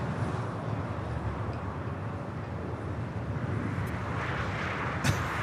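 A jet airliner taking off on the south side runway at LAX, heard as a steady, broad roar that holds at an even level throughout, with no voices.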